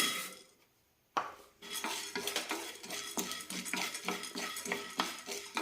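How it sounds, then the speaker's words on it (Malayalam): Half a cup of split chickpeas is dry-roasted in a pan, a close rattling scrape of a spoon stirring the dry grains in quick, repeated strokes after a brief quiet start. "ആദ്യം അരക്കപ്പ് പൊട്ടുകടല വറുത്തെടുക്കാം"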